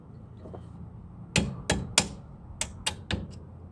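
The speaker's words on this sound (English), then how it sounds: "I'm just going to use a quick screwdriver here, a little mini one, and this annoying hammer" A hammer taps a small mini screwdriver to drive out a brake shim pin, giving six sharp metallic clicks in two quick bursts, close and fairly loud against a quiet background.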